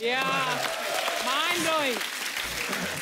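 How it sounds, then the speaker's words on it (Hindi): Loud applause from a comedy show studio audience, with voices and cheering rising over the clapping. "जोरदार ताली हो जाए"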